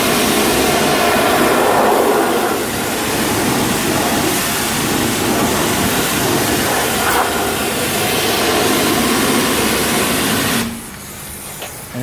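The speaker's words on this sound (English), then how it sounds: "So now that we've sprayed into the wheel well, now we just simply spray the wheels." Pressure washer blasting water into the wheel wells of a vehicle during a winter wash with snow and slush, a loud, steady, close hiss of spray that runs continuously and then drops away near the end.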